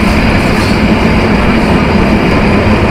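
Carriages of the Madhumati Express, operated by Bangladesh's West Zone Railway, thunder by at close range in an unbroken, heavy rumble of wheels on track, loud and steady throughout.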